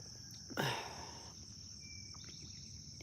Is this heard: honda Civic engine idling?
no